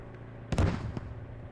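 Heavy anti-tank tandem round fired in a mechanized battle video game, a single loud, close boom with a short rumbling tail and a faint second thump after it.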